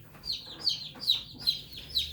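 Five high, short chicken calls repeat at an even pace, close by and fairly quiet, with no other sound around them.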